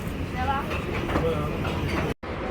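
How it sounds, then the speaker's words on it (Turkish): A train arriving at a station in Istanbul rumbles steadily with a clattering rail roar and faint squeals, near and continuous, broken by a brief cutout near the end. "Evet arkadaşlar biz trene geldik."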